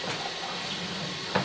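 Water runs in a steady, even hiss through a pipe during a pipe inspection, continuous and fairly close, with one brief knock near the end.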